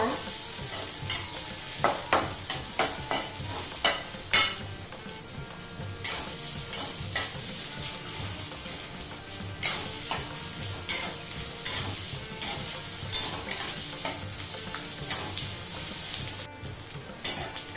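Thinly sliced onion sautéed in a pan, a steady close sizzle broken by regular scraping stirs of a spoon against the pan, repeating every second or so, with no talking.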